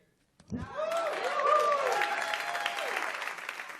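A crowd at a stand-up comedy show bursts into applause after a sudden onset. The full, sustained clapping is mixed with cheers and whoops that rise and linger.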